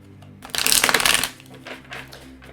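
A quick riffle of tarot cards being shuffled, one brisk burst up close, followed by a few lighter taps and rustles.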